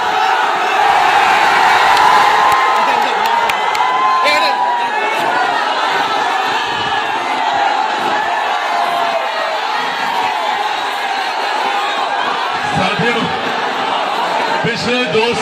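A huge outdoor political rally crowd in Mokama roaring and cheering for Chirag Paswan, a continuous loud swell of shouts, whoops and chatter from thousands of people, sustained throughout.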